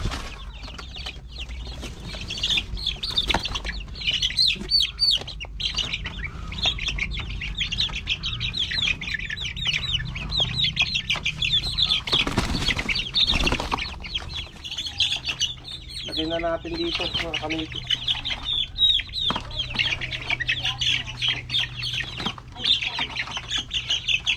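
Chicks packed into a cardboard box during a chicken vaccination chirp constantly in a dense, high, overlapping chorus, with occasional squawks and clucks from chickens mixed in, steady and close throughout.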